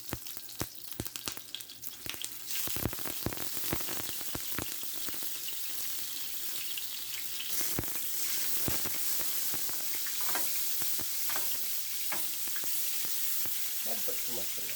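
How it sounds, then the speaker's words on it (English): Butter sizzling as it melts into warming oil in a pan for pork chops, a steady crackling fry with sharp pops and clicks early on, settling into a continuous hiss. "I'm going to put in some butter in there."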